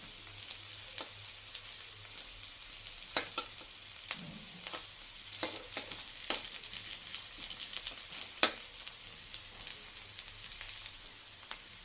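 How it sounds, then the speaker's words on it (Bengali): Soft, steady sizzling of coconut frying in a pan, punctuated by sharp scraping clicks from stirring. "নারকেলটা আমার অনেকটা ভাজা হয়ে গেছে"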